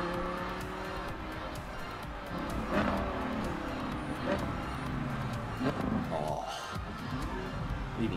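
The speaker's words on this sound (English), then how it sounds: "Perfect mixture of music and machines" A Forza Horizon 2 video game car engine roars and revs over music and a busy mix of sound, with occasional louder surges as the vehicle accelerates.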